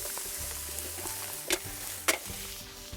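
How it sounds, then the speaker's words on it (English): Fish fried in a pan over coals for a lakeside shore lunch makes a steady close sizzle, broken by two sharp scraping clatters of a utensil moving the fillets, with low background hum. "Keep the fish moving around so they don't stick."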